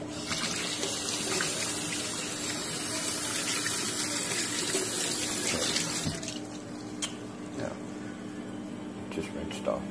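Chalk is rinsed off under a running tap: a strong, close stream of water splashes steadily, then eases to a quieter trickle with a few knocks and drips, while a voice talks over it.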